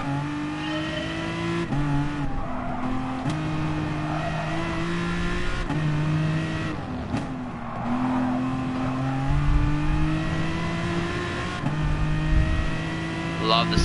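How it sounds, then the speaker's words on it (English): An Aston Martin V12 in Gran Turismo Sport revs loudly and rises through the gears, with clear upshifts between strong engine notes and a brief tyre squeal. "Love the sound of that V12."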